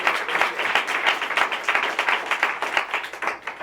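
Congregation clapping in praise during a church service, a dense, steady burst of loud applause lasting throughout with no voices over it.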